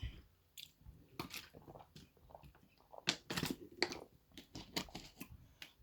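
Someone eating a Nigerian meal of rice and beans with fried chicken, close and fairly quiet, with irregular wet chewing, biting and squishy mouth sounds in uneven bursts and no talking.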